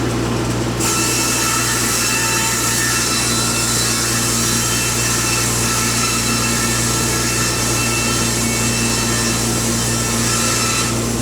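A power saw cuts through green hemlock siding, running loud and steady throughout with a continuous whining drone and no talking.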